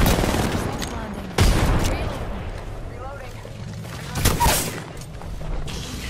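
A grenade blast and bursts of gunfire in the Apex Legends video game, with a sudden loud boom early on and another burst of shots later over a busy background, while a voice talks.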